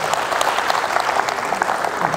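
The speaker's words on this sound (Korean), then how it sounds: "박수 쳐주고" An academy lecture audience claps together, a steady crowd applause holding at an even level from start to finish with no talk over it.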